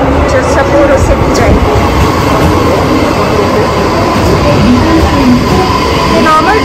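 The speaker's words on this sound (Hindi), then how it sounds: "ये देखिए आ रही है मेरी ट्रेन जो सपोरो सिटी" A normal, non-bullet train bound for Sapporo in snowy Japan pulls into the station with a loud, steady rumble and hiss that lasts throughout. A person speaks over the noise.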